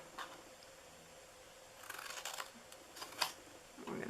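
Scissors cutting through material for a DIY Mother's Day purse: a few quiet, scattered snips and rustles, heard close up with no one talking.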